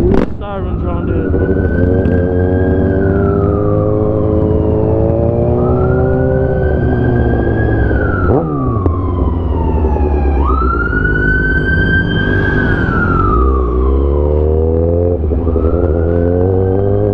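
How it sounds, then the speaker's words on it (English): Emergency vehicle sirens wail loudly nearby on a street, their rising and falling tones overlapping as they pass, heard over traffic noise. "Sirens around here."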